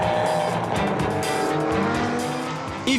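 Historic competition cars from 1951–1965 skid and slide with squealing tires on the Tour Auto Lissac, engines roaring loud and close throughout, tire screech rising and falling as they drift.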